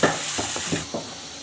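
Onions fry in hot oil with a steady sizzle, broken by several soft stirring scrapes in a quick rhythm, close and moderately quiet.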